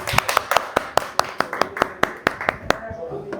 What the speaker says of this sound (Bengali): আনলে আমরা 3 জন জোরে হাততালি দিব